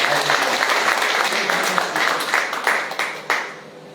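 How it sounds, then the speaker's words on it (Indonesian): A church congregation applauds warmly during a sermon, a dense wash of many hands clapping together that holds steady before tapering off near the end. "Tepuk tangan bagi anakku"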